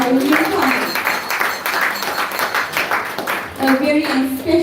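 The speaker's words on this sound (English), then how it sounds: "Let's give them a round of applause." An audience at an evening Namahatta gathering applauds first-time attendees, a burst of room clapping heard together with a voice speaking over it.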